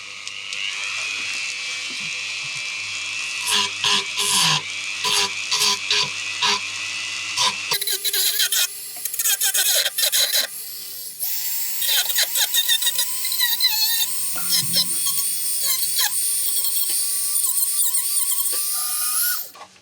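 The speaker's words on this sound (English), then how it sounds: "I've got a little sanding bit on now" A high-pitched sanding bit whines steadily with short stops and restarts, close and loud, its tone shifting as it sands a wooden bowl spinning on a lathe.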